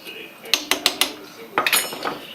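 A spoon clinks against a pot while tomato basil soup with added pepper is stirred, giving four quick metallic taps followed by a scraping, clattering cluster, close and fairly clear.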